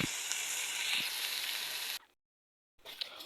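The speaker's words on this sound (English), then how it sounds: "add your oil and stir fry your onions" Onions and tomatoes stir-fry in hot oil in a pot, giving a loud, steady sizzle that runs unbroken for about two seconds, drops to silence, then returns more quietly.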